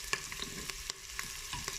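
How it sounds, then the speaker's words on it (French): Beef bourguignon browning in a Cookeo multicooker gives a close sizzle with short scraping stirs that come several times, sounding alone with no talk. "Donc là en fait je fais dorer tout ça."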